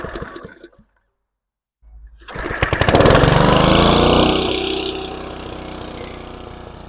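An Alpina RS100 ride-on lawn mower engine starts after a moment of silence, then runs loud and steady nearby with a rough mechanical drone that eases slightly toward the end.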